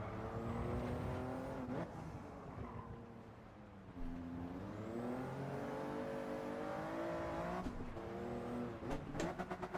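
A race car's engine revs and climbs through gears in Gran Turismo 7 during a time trial, loud and continuous with pitch dropping at shifts around two and eight seconds, with no talk.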